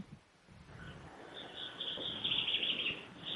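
Sparrows chirp in quick, bright, repeated notes that grow busier toward the end, heard at a moderate distance over a steady background hiss.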